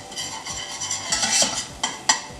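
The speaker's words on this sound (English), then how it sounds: "Here it's sizzling, it's beautiful." Garlic sizzles steadily in a pan, with a few clinks of a utensil against metal near the end, close up and without talk.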